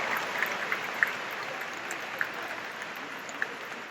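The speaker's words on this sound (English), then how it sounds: "Let's give ourselves a round of applause." A large graduation audience in a big hall applauding, a dense, even wash of clapping that holds steadily throughout, with a few louder individual claps standing out and no voices above it.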